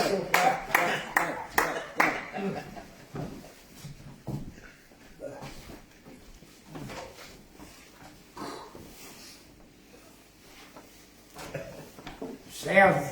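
Audience hands clapping at an open mic poetry night, a quick burst of applause at the start that fades into a quieter room with scattered shuffles and a brief swell of claps at the end.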